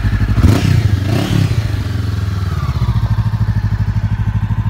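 A 2013 Honda CBR500R with a Yoshimura exhaust cranks over and starts, then rises briefly in revs. It settles into a loud, close, steady idle with an even pulsing beat.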